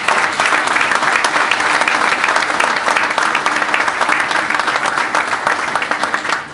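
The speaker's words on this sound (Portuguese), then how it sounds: "peço uma salva de palmas" Sustained, dense applause from a crowd at a local party election event in Machico, steady and loud throughout with no talk over it.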